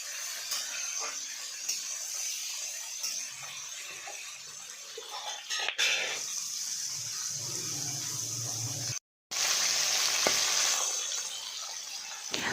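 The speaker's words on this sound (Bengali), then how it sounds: "দিয়ে আমি ভালো করে ভেজে নেব মাছের মাথাগুলোকে" Hilsa fish heads, rubbed with salt and turmeric, fry in hot oil with ginger, giving a steady close sizzle and hiss with occasional stirring clatter and a brief gap near the end.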